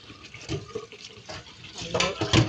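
Sidra fish are washed for pickle under running water, with splashing, gurgling flow and brief surges of water in a vessel, close and without talk.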